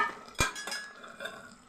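Lentil fritters dropped into a pot of simmering bottle gourd curry, with a sharp clunk followed by a couple of softer knocks and a light stirring scrape, close and quiet.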